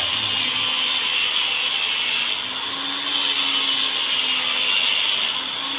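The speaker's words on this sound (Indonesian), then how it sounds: "Jadi harus di gerinda dulu cara cepat" An electric grinder reshapes the edge of a 10-inch Solingen Don Carlos kitchen knife, giving a steady loud whine with grinding hiss, running continuously with a slight dip midway.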